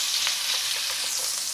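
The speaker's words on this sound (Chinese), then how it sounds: "先打爆啲煙肉先。" Bacon frying in a pan for a quick fried rice, a loud, even, crackling sizzle throughout with small pops.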